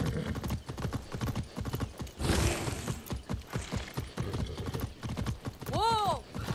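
Rapid, steady hoofbeats clip-clop close by from a horse in the video game Far Cry 6, moving at a brisk pace, with a brief whoosh midway and a horse whinny near the end.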